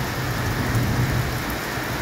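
Steady heavy rain pours down late at night during a lightning storm, a dense, continuous hiss with a low rumble underneath that suggests thunder; no voices.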